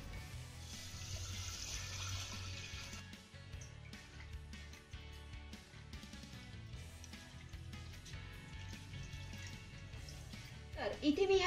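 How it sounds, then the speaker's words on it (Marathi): Toor and moong dal being rinsed with water in a pressure cooker, a low continuous sloshing and swirling with small clinks, fairly quiet and close, ending with a brief knock. "आता ह्या कुकर मध्ये घातलेल्या दोन्ही डाळी 2 ते 3 पाण्याने स्वच्छ धुवून घेऊया"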